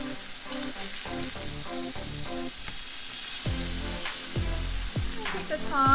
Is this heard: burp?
no